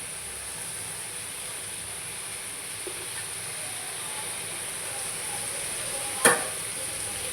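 Tomatoes, coriander and mint sauté with rock salt in a pan for Jabar bhai style biryani, giving a steady, even sizzle throughout with one brief sharp clatter near the end.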